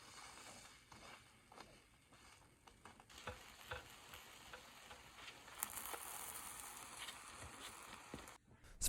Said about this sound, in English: When the dough became white, turn over the takoyaki upside down at a time.